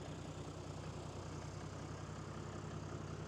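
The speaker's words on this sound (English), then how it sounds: "All right, so car is idling." A car engine idles steadily on a beach after a repair, a constant low rumble with an even, unchanging drone throughout and no talking.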